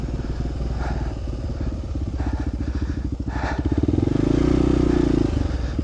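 Motorcycle engine labouring over rough, gnarly forest-road terrain, a steady close rumble with clattering and scraping, revving rising toward the end.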